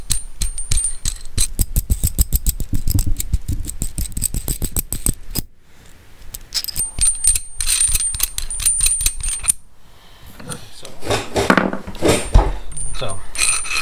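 Metal hardware for a Kubota BX23S 54-inch mower deck rattles and clinks as a washer and spacer are handled and fitted onto a bolt. Rapid close jingling and ratcheting clicks come in bursts, with a short quieter gap partway through.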